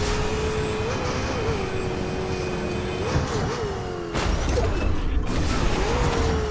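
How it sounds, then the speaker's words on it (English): A car engine drones nearby in the Fortnite video game, a steady humming tone that wavers and slides in pitch, growing slightly louder and rougher toward the end. "I hear a car somewhere over here."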